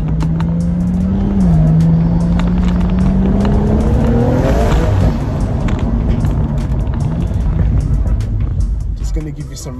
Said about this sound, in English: Just gonna give you some revs here.